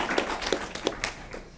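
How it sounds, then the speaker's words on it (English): Scattered claps from a small audience at a school board meeting, a handful of separate hand strikes spread unevenly over a second and a half, fairly close and short-lived. "Let's give her a round of applause."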